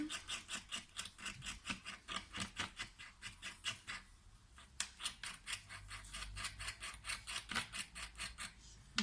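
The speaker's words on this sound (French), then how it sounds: "je vais venir gratter mon pastel" Repeated rhythmic scraping of a pastel stick, fast even strokes that pause briefly mid-way and then resume, close and fairly quiet with no voice.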